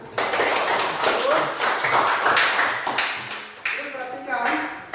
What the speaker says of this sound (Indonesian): kalau bilang menyenangkan kita semua tepuk tangan